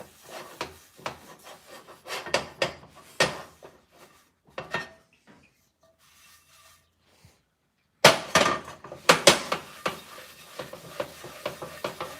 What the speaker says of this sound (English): I'm actually pushing down pretty hard as I rub it off with a rag.